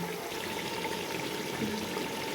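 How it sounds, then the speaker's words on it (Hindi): Water poured into fried chicken in a large cooking pot for degi chicken pulao, a steady, even trickling pour heard close and moderately quiet without talk. "इसमें ऐड करेंगे अब हम पानी"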